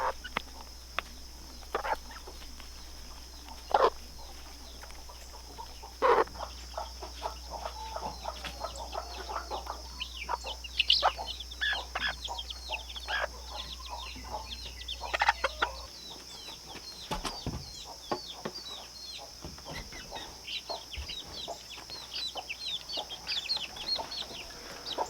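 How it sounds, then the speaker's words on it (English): Homestead chickens, mother hens and chicks, peck and cluck while eating fermented pig feed, scattered soft clucks and clicky pecking taps nearby against a steady background hum. "Now all the chickens absolutely love the pig feed that we give them because it's fermented."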